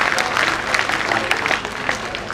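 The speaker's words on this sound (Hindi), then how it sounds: "तालियां बजती रहनी चाहिए।" Audience applause fills a meeting hall at a provincial convention, a steady dense clapping that holds evenly from start to finish with no voices standing out.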